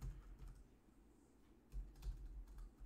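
Quiet computer keyboard typing in bursts of soft clicks, with a short pause in the middle and then a faster run of keystrokes, with no one speaking.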